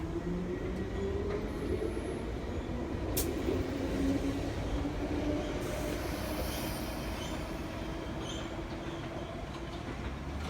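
A London Underground train rumbles steadily into a station, wheels grinding and squealing faintly along the rails under a continuous low roar.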